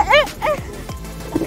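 A dog on a farm barks furiously at close range, two sharp yipping barks followed by quieter movement.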